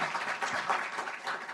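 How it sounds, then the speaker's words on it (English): Brief burst of audience applause at a conference stage event, a dense, even patter of many hands clapping at moderate loudness with no voices. "Let's give her a round of applause."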